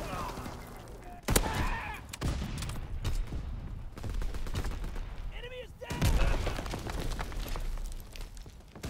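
Heavy single sniper rifle shots from the WZ.35 in Call of Duty WW2, two loud sharp cracks several seconds apart, set against busy game battle noise.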